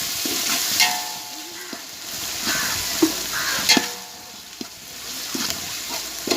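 Curd being stirred into mutton biryani masala in a pot, a close, wet sizzling with repeated squelching stir strokes and scrapes of the spoon at an uneven rhythm.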